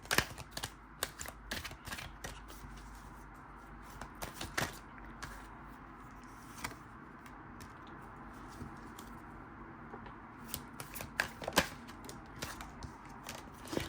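Tarot cards are shuffled and drawn in quiet, irregular bursts of soft flicks and riffling clicks, close and faint, with pauses between flurries.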